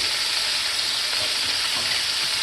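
Onions cook down on a hot griddle beside smash burgers, giving a loud, unbroken sizzle and crackle that stays even throughout with no talking.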